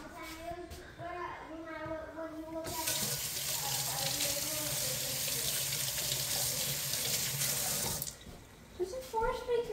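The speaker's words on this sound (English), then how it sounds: "I have to wash my hands for touching animals." Water running steadily from a tap into a sink during handwashing, loud and close for several seconds, with a child's and an adult's voices before and after.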